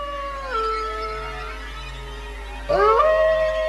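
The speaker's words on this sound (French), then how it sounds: "Écoutez les chiens errants hurler à la lune." Several stray dogs howl in long, wavering, overlapping wails at moderate distance. A louder, closer howl rises sharply near the end over the others.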